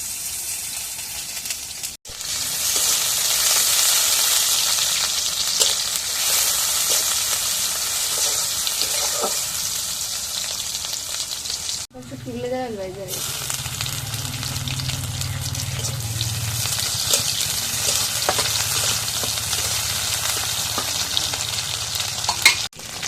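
Bay leaves and oil frying in a pan, a steady loud sizzle throughout with brief stirring scrapes; midway there's a short break, then the frying resumes with a lower bubbling undertone and continues to the end.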